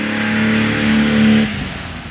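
A fully restored 1969 Mercedes 280 SL Pagode with a four-speed manual gearbox, driving with the top open: a steady, close engine drone that eases off and drops lower near the end.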